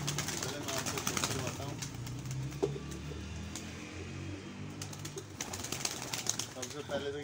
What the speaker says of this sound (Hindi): सबसे पहले तो ये हमारे पास काला कबूतर है।